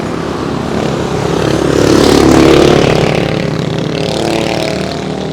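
A motorcycle engine runs steadily and close by, a continuous rough drone that swells slightly in the middle before settling back, with no voices over it.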